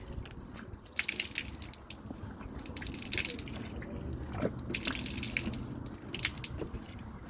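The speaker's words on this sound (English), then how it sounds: "we keep doing it until the water runs clear" Water runs and drips while a horse's sheath is rinsed, giving a soft, continuous trickle with scattered splashes and drips close by.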